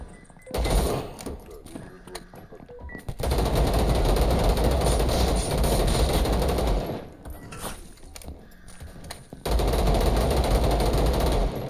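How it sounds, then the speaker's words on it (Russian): A Kalashnikov assault rifle fires in the video game VLADiK BRUTAL, with loud sustained automatic bursts separated by short pauses and a brief gap between volleys. "Вот он, автомат Калашникова в действии, да?"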